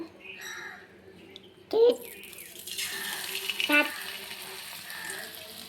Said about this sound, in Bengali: এবার বাকি চুচাগুলো ভেজে নিব।